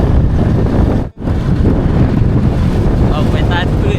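Strong wind gusts steadily across open Thai rice fields while wood is being cut for a charcoal kiln, roaring continuously through the microphone with one brief lull partway through.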